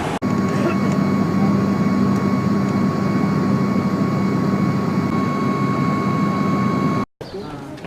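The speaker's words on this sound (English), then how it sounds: "Now we're about to get on the airplane to head up to Skardu." A jet airliner's engine roars in a steady, loud, continuous drone while passengers board a flight to Skardu, with a sustained whine on top; the sound cuts off abruptly near the end.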